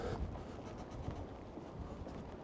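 Wind gusts over a river by a bridge on a choppy day, a low, steady rumble buffeting the microphone close up, with no voices and no other distinct sounds.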